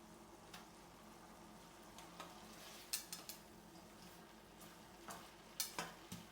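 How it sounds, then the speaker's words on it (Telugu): Fried chicken wings sauté in a pot of horse gram soup (ulavacharu), giving a soft, steady sizzle broken by occasional quiet scrapes and knocks of stirring. "ఇవి వేసుకున్న తర్వాత మనం ఒక 5 మినిట్స్, ఒక 3 to 5 మినిట్స్ మనము సాటే చేసేసుకోవాలి ఉలవచారుతో"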